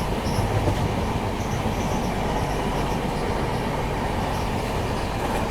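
An Indian Railways Amrit Bharat Express, train 16598 from Alipurduar Junction to SMVT Bengaluru, rumbles past with steady loud wheel and carriage noise and a clickety-clack running throughout, no voices.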